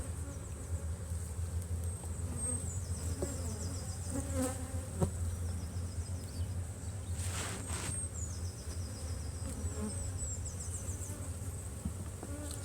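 Honey bees hum around an open overwintered hive during an inspection, a dense continuous buzz with individual bees droning close past now and then, steady and moderately loud throughout.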